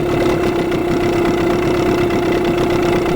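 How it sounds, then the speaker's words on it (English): A Tohatsu 9.8 hp two-stroke outboard engine idles at about 960 RPM after ten minutes of running, putting out a loud, steady, close drone with an even low pulse and no voices. "outboard's been running now for approximately 10 minutes. The idle speed is quite good."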